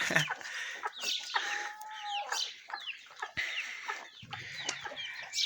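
Turkey calls and clucks overlap in a busy farmyard, with gobbling chatter and occasional higher squawks, fairly distant and steady.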